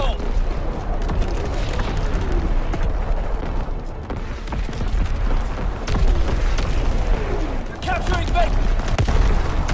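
Grenade and artillery blasts in Call of Duty WWII on a battlefield, with booming explosions and scattered gunfire over several seconds, mixed with in-game voices shouting.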